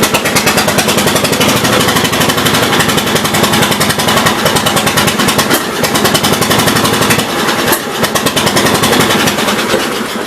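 A 1982 Gravely 8163-B garden tractor engine idles close by, a loud, rapid, even chugging that keeps a steady beat with only a slight dip in the middle and no voices.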